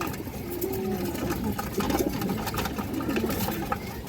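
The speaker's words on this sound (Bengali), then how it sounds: "বড় সাইজের এক সাইজের একটা সবুজ গোলা নর কবুতর" A large green-necked male pigeon coos in several low, wavering phrases, soft and close amid a busy pigeon market's background clatter.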